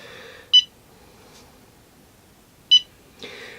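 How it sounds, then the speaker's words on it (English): Two short, bright electronic beeps from a DJI Tello drone spaced about two seconds apart, clear over a quiet background hum. "Now, it does beep continuously, just a little bit, to let you know that all is well."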